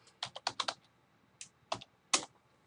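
Keys tapped on a computer keyboard: short clustered bursts of crisp clicks with brief pauses between them, close and fairly quiet, with no talking.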